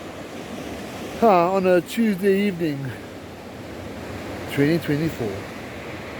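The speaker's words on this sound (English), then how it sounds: "Let's take a closer look at the mighty South Atlantic Ocean." Surf of the South Atlantic Ocean rolls at Misty Cliffs near Cape Town, a steady broadband wash of waves and wind heard under someone speaking in two short bursts.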